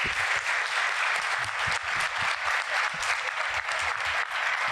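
Dense, steady audience applause at the final of a petroleum and gas competition, continuous clapping from a sizeable crowd filling the room at moderate loudness.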